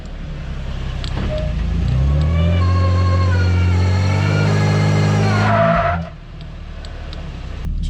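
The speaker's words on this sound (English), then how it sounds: "The driver's side rear tire is squealing on the pavement, so that's with traction control on." Nissan with a limited-slip differential and traction control on, its driver's side rear tire squealing loudly on pavement as the engine revs, a rising tonal screech lasting several seconds before cutting off sharply into idle.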